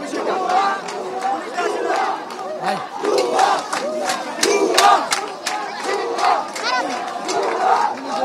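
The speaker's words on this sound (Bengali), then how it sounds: "পুলিশকে ঘিরে শিক্ষার্থীরা উত্তপ্ত স্লোগান দিয়েছেন" Crowd of students at Mollah College shout angry 'bhuya bhuya' slogans at police, loud rhythmic massed chanting with overlapping voices and rising cries, close and continuous.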